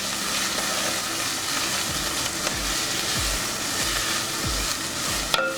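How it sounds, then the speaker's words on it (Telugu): Green chillies and onions fry in hot oil for Andhra gongura chicken, a continuous close sizzle with regular low thumps of stirring throughout and a brief clink near the end, no voices. "ఆయిల్ వేడైంది. మనం పచ్చిమిర్చి, ఉల్లిపాయలు వేసుకుందాం. ముందుగా వీటిని మనం ఫ్రై చేసుకోవాలి."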